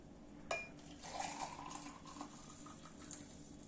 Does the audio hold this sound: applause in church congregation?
no